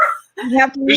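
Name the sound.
dog barking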